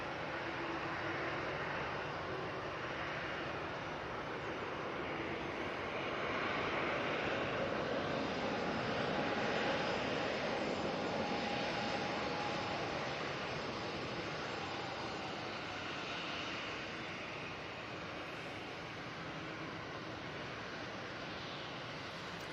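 EasyJet airliner with engine anti-ice on at Manchester Airport, heard as a faint, distant jet rumble that swells gently mid-way and eases off, steady and without voices.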